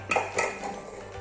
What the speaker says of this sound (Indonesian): Lalu kita aduk hingga tercampur rata.